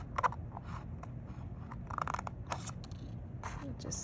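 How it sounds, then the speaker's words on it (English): Scissors trimming a small piece of paper in a paper-art project, with close, crisp snips in a quick irregular run, under soft background noise. "I carefully can use my scissors and trim this side."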